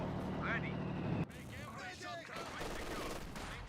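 Bursts of machine-gun suppression fire from the game Company of Heroes 2, rattling under a commentator's voice that talks over the battle noise throughout.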